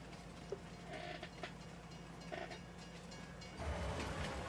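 A train in the Farming Simulator 19 video game rumbles along steadily at low volume, with faint clattering and a swell in the low rumble near the end.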